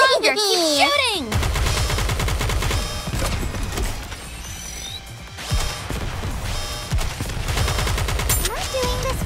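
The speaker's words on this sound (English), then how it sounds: "Faster, stronger, keep shooting." Gunfire from the Goddess of Victory: Nikke video game, a dense, sustained rattle of rapid automatic shots with mechanical clatter and impacts, loud and near, running almost continuously with brief dips and voiced game lines over the opening.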